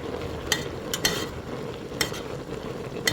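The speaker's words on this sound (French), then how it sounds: "Bien mélanger pour que ça ne s'entasse pas ensemble." A spoon stirs okra sauce with meat, shrimp and palm oil in a pot for Kandia soup, giving several sharp scraping strokes about a second apart over a low steady bubbling simmer.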